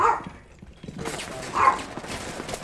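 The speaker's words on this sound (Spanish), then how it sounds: "tengo aquí mi perrillo detrás, por eso lo estaré escuchando" A small dog barks faintly in the background, a few muffled yaps set behind busy Rainbow Six Siege game sounds.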